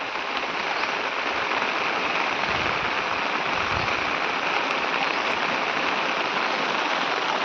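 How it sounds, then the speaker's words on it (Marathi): Heavy rain pours steadily in the Konkan, a dense, even hiss of drops hitting surfaces without letup. "पाऊस बराकत लागलो हा"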